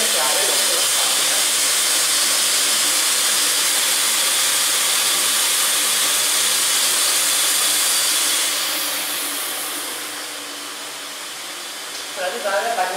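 Steady hiss of steam filling a steam bath, a continuous broadband rush that holds loud and even, then thins and softens toward the end, with no talk over it.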